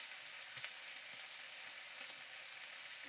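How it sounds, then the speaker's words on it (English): Vegetables frying and being stirred in a pan, a dense, even sizzle holding steady, with a few faint knocks of the utensil against the pan, close and moderately loud, no talking. "let me stir my vegetables"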